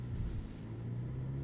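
Engine of a Porsche Cayenne Coupe plug-in hybrid, running with its battery nearly empty, drones steadily under throttle, a low humming tone heard from inside the cabin with no talk.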